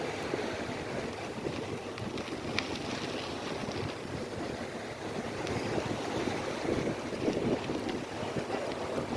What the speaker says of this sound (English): So I'm fighting a little headwind.